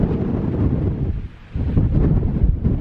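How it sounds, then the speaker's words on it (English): Strong wind buffets the microphone at an exposed wild camp beside a peat bog wall in the Brecon Beacons, Wales, a loud continuous roar that dips briefly before gusting back up. "now we're getting southeasterly winds coming from that direction as well"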